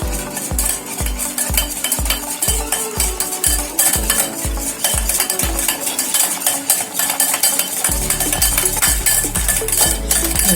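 Curd being stirred into a sugar, oil and milk mixture for a marble cake batter: a quick run of steady, rhythmic stirring strokes against the bowl, close and fairly loud, changing to a denser continuous mixing sound near the end, with no talking.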